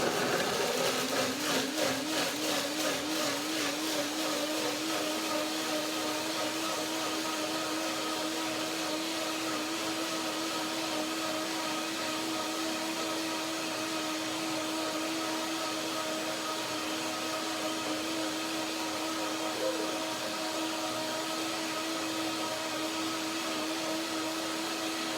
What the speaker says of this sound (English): now blender dance